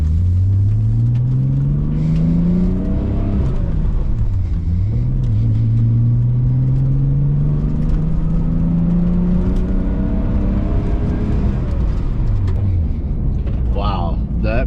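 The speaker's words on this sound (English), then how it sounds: "I'm gonna drive the R32." Nissan R32 with a full carbon body driving past, its engine rising and falling in pitch as it accelerates and shifts, loud and steady throughout, with brief voices near the end.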